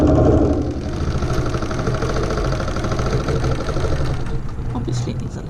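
A BERNINA sewing machine stitches echo-quilting along a ruler, its fast even mechanical chatter running steadily and close, with a voice speaking over it.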